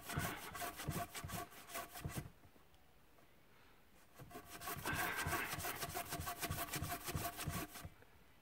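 A Corona camping saw rasps through wood in two bursts of rapid back-and-forth strokes, fairly faint and close, with a pause between them.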